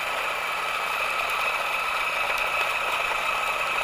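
A prosumer coffee grinder runs continuously on espresso beans, producing a steady, even whirring grind with a bright, high-pitched edge and no change in pace, heard alone at close range.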